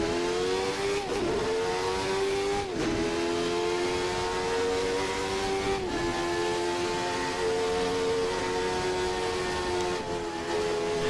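A Jordan 191 Formula One car in a racing video game screams at high revs, its engine note climbing through gears with several sharp lifts and downshift blips, loud and continuous with no talking.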